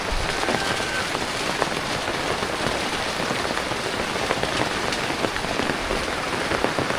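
Heavy rain from Typhoon Basyang pours steadily onto surfaces, a dense, continuous patter and hiss close by with scattered louder drops, no voices.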